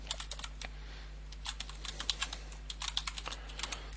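Quiet clicking of typing on a computer keyboard, keystrokes landing in uneven quick runs and short pauses over a low steady hum.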